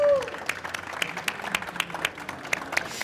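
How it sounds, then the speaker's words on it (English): A conference audience applauds a panel, a steady stretch of many hands clapping at once in a room, the crowd sound filling the whole moment. "I would like you guys to give a round of applause to our panel."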